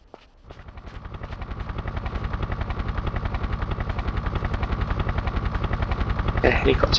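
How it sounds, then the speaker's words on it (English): A helicopter hovers in the video game Tomb Raider 3, its rotor chopping in a fast, steady rhythm that swells louder as it draws nearer, with a brief clank near the end. "The helicopter waiting for me."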